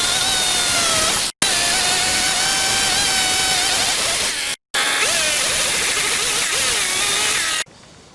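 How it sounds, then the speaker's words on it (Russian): A chainsaw trims a wooden beam flush during workshop construction, its engine droning loud and steady, pitch wavering as the cut loads it, with two brief breaks where the saw stops before resuming. "Останется здесь подровнять бензопилой ровно."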